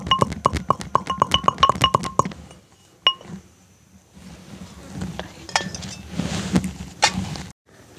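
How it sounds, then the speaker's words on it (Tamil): Asafoetida pounded in a mortar, a fast series of sharp ringing metallic strikes up close, then scattered knocks and clinks with background noise. "இந்த பெருங்காயத்தை நாங்கள் இடிக்க போகிறோம்"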